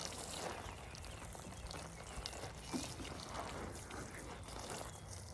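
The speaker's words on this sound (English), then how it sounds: "You can water in front of the plant a little bit" Water pours steadily onto the soil in front of a giant pumpkin plant, a faint continuous splashing and trickling hiss outdoors.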